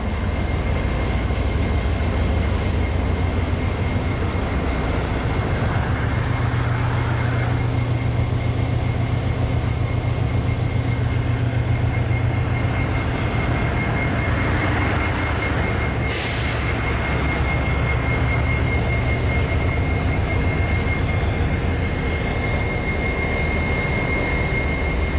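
A train rumbles steadily past at close range, heavy low roar with metallic wheel squeal and hiss rising over it, continuous for the whole stretch.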